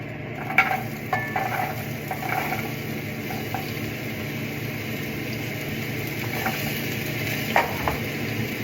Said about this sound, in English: You need to have enough in there to be able to sear this up.